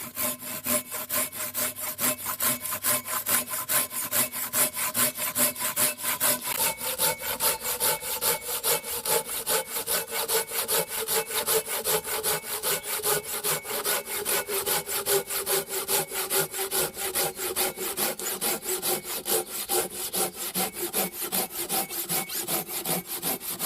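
A knife saws through wood in dry woodland to make firewood, with rapid back-and-forth rasping strokes that are close, even and continuous throughout.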